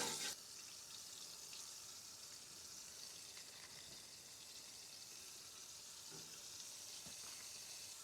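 Pieces of alligator meat frying in bubbling grease on a camp stove outdoors, a steady broadband sizzle and crackle continuing evenly throughout with a few faint pops, no talking.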